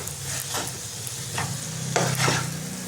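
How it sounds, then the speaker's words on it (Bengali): Boiled potato being stirred into a chicken patty filling in a pan, with repeated scraping and mixing strokes over a faint background sizzle, close and fairly loud, no voices. "এই আলুটা ভালো করে মিশিয়ে নেব।"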